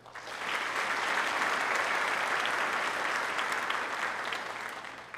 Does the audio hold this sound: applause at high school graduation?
yes